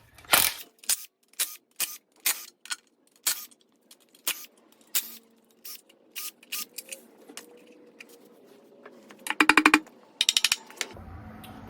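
A 10mm socket wrench loosening timing cover bolts on an LQ4 6.0 engine during a rebuild, sharp ratcheting clicks in a steady series of short bursts with pauses, then a faster rattle near the end.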